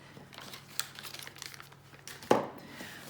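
Kitchen roll paper is handled and folded in a quiet kitchen, giving soft, close crinkling and rustling with a sharper crumple near the end.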